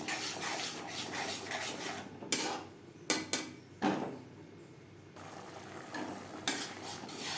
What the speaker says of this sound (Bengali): দু 3 মিনিট নাড়াচাড়া করে নেওয়ার পর